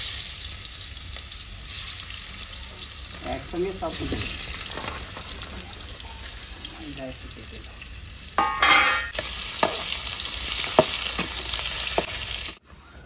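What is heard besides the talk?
prawns frying in hot white oil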